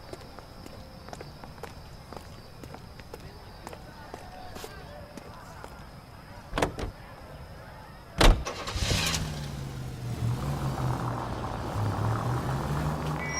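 A 1940s car engine in the detective game L.A. Noire, with footsteps and door clunks first, then an engine starting up and idling in a low steady rumble.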